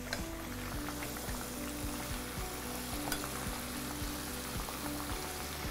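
Eggplants fry in a pot for a Turkish moussaka, giving a steady, close sizzle with soft stirring and scraping sounds throughout, and no voices.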